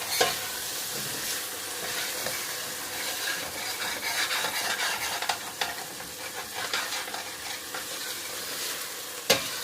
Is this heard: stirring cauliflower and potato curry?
yes